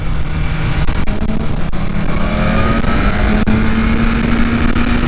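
A BMW S1000RR M package sport bike pulls hard on the Interlagos circuit during a 2022 track festival, its engine droning loud and steady with a rising pitch as it accelerates, a constant wind-rushed roar throughout.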